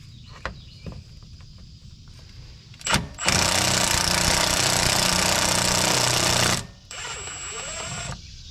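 A pneumatic impact wrench removes the AC clutch center bolt on a Toyota Tacoma, a loud continuous buzzing rattle lasting about three seconds, preceded by a short burst and a few light metallic taps, with shop noise afterward.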